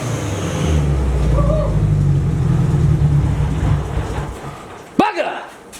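A Nissan S14 engine idling after a fuel pump install, a steady low rumble that fades slightly before a sharp bump near the end.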